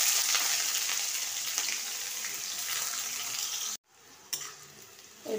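Small peeled onions hit hot oil in a pan with a loud, bright sizzle that holds steady, then cuts off abruptly and returns more softly as the pan is stirred.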